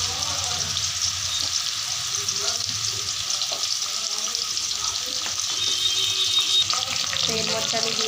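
Potatoes fry in a pan with dried red chilli, turmeric and salt, producing a loud, dense sizzling hiss that holds steady throughout, with light stirring noises mixed in.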